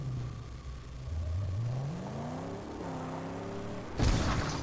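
A buggy in the Mad Max video game spinning its wheels, a mid-pitched engine whine rising and falling as it revs, then a sudden harsh burst of noise near the end.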